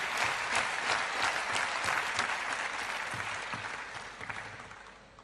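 A crowd at a women's singles table tennis match at WTT Europe Smash in Sweden applauds steadily and loudly, the clapping slowly fading over several seconds.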